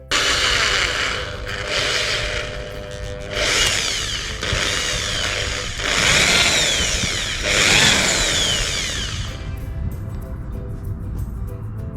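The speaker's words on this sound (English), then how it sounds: "We drill the potato all the way through" A power drill whines loudly and close, surging in several long bursts with pauses in between as it bores through a potato.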